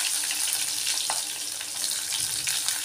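Chopped onions frying in hot oil for a Mysore masoor dal and tomato curry, giving a steady, close, broadband sizzle with faint stirring clinks, and no voices throughout.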